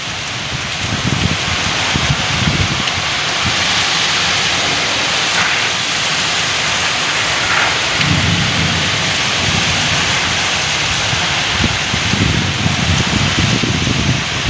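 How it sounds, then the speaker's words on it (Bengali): Heavy rain pours steadily and loudly onto a rooftop garden during a windy storm, a dense unbroken wash of sound with low rolling rumbles of thunder swelling and fading several times beneath it. "বৃষ্টির স্পিড কিন্তু অনেক বেশি। সেই লেভেলের বৃষ্টি হচ্ছে কিন্তু।"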